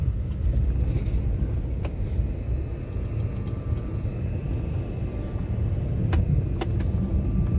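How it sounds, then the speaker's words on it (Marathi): A car creeps at very low speed along a rain-soaked, potholed road toward a lighthouse in Vengurla, its steady low engine rumble running throughout with occasional faint knocks and splashes. "गाडीचा स्पीड 2 ते 3 ठेवायला लागतोय, एवढ्या स्पीड मध्ये गाडी न्यायला लागतीये।"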